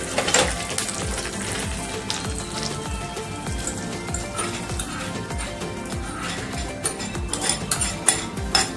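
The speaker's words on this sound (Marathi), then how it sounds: "आपण आता फोडणी ओतून घेतली" A hot tempering of cumin and curry leaves in oil is poured into soaked sabudana and sizzles loudly up close, a steady frying hiss with scattered pops and a few utensil clinks.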